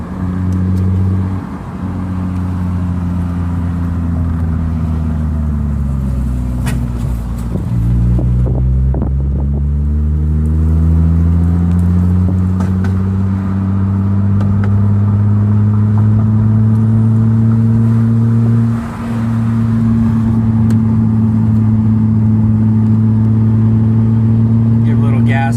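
A 1989 Toyota Mark 2 GT twin turbo drives along with a steady engine drone that rises and falls through gear shifts, accompanied by road and wind noise throughout, while a person talks over it.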